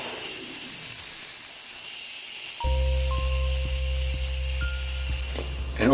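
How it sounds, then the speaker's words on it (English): An Instant Pot's quick release valve vents steam in a steady, loud continuous hiss, with a faint electronic tone and soft rhythmic beeps joining partway through. "I'm going to release the pressure of the Instant Pot using the quick release valve"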